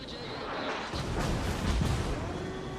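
Big naval guns in World of Warships firing AP shells, including from the battleship Hindenburg, with a series of deep, rumbling booms rolling over a continuous low battle din.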